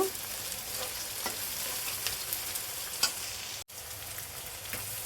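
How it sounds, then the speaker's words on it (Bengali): Ginger garlic paste going into onions frying in oil for a rui fish curry, giving a continuous close sizzle with light stirring scrapes and a brief dropout near the end. "পেঁয়াজটা সুন্দর করে ভেজে নিয়ে আমরা এতে আদা রসুনের পেস্ট দিয়ে দিব"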